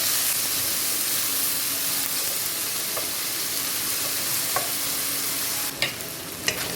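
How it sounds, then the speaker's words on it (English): Bacon frying in a little oil in a pan gives off a dense, steady hiss and crackle, with a few faint clicks and a couple of sharper taps near the end. "then I put a little bit of oil in there just to get my bacon going"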